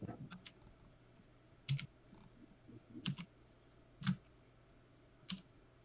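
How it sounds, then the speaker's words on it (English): Sparse keystrokes on a computer keyboard, a handful of separate clicks spaced about a second apart, quiet and close with a faint room hum and no talking. "So now, Pinckney, you're typing, right?"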